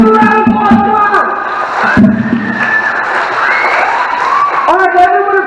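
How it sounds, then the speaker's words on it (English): An audience claps and cheers for a group of children, a lively mix of clapping, whoops and excited voices with some shouting over it, steady and fairly loud. "Everybody clap for them."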